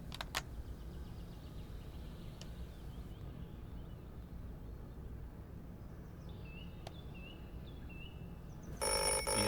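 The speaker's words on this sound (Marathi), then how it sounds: "येतोय येतोय हॅलो ठाकूर साहेब रेसिडेन्स" A home telephone rings in a drama scene, with repeated electronic trilling bursts at moderate volume over a quiet room hum, followed by a louder noisy burst at the end.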